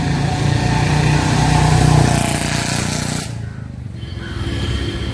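A Royal Enfield Bullet motorcycle engine drones loudly near a station circle, swelling as it passes close by and then dropping away abruptly, leaving quieter traffic rumble behind.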